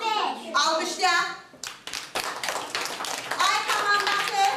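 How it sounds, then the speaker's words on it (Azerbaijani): Young children clapping together during a kindergarten class activity, giving a burst of quick, uneven claps alongside children's voices and a teacher talking. "Alqışlayaq."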